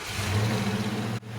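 A custom truck engine is test-started in a shop build where a truck cab is being fitted onto a car floor. It revs loudly and closely in a rough, throaty surge for about a second, then cuts off abruptly.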